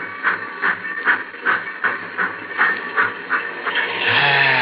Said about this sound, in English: The old boiler up front's got the steam up.